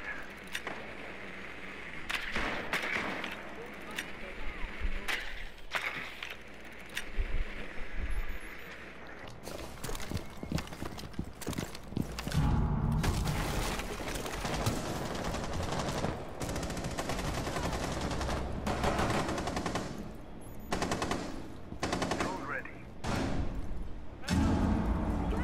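Video game gunfire crackles in bursts and rapid automatic volleys, with sharp individual shots, thuds and impacts scattered over a long stretch of play, some near and loud, others fainter.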